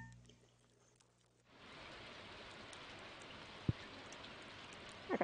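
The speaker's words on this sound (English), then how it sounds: "Okay, so we have rain coming." After a quiet start, steady rain from the video game Stardew Valley sets in as a soft continuous hiss, with one brief sharp tap midway and a few small clicks near the end.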